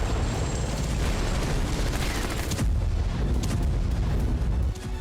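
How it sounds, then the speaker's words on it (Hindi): Explosions and artillery fire in the war in Ukraine form a dense, loud wall of booms and rumbling blasts that continues without a break, with no voices. "अनगिनत धमाके, बेहिसाब तबाही"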